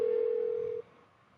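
A phone rings unanswered in a video game: one steady, clear ringback tone holds for just under a second, then cuts off, leaving quiet background hiss with no talk.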